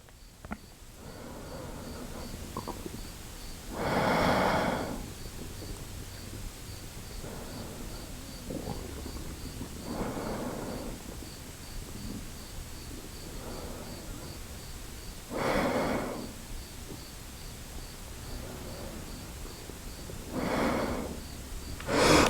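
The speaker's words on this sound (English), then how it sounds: "Deep breaths." Slow, deep breathing during a home yoga session: soft, breathy exhalations come every five to six seconds, close and quiet, over a faint room hum.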